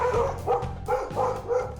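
A dog barks repeatedly at a goose, a string of four or five close, loud yappy woofs in a quick uneven rhythm, with no talk.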